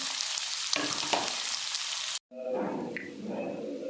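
Onions frying with roasted cumin for paneer bhurji, a bright close sizzle that cuts out briefly, then returns softer and lower as the onions settle into the pan, with no voices.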